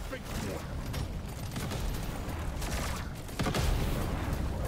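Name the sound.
incendiary grenade fire burning, video game Deep Rock Galactic: Survivor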